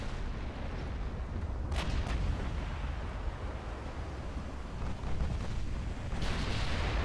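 Torpedo hits exploding against a warship in the naval battle game Ultimate Admiral: Dreadnoughts: a dense, continuous roar of booming blasts with sharper bursts cutting through near the start and end, loud and without any voices.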